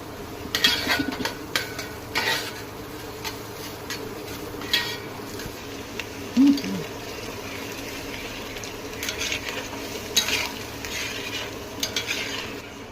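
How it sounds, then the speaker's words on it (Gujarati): Garlic and ginger sautéing in a pan for a street-style nutri kulcha, with a steady sizzle and repeated scraping stirs of a spoon against the pan, plus occasional metallic clinks. "1-2 મિનિટ માટે લસણ આદુને સાંતળશું આપણે"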